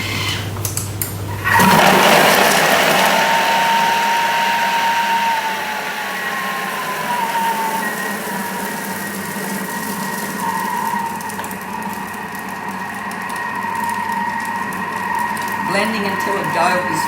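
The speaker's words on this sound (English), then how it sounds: "Blending until a dough is formed" A Thermomix blends walnut and blue cheese shortbread dough on speed 6 with the lid and measuring cup in place: a loud, steady motor whir with a rising pitch that settles into a lower churning hum as the dough forms.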